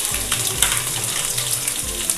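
Sliced garlic goes into hot oil with frying dried red chillies, giving a steady crackling sizzle with soft bubbling underneath, close and continuous, for a peerkangai kadaisal.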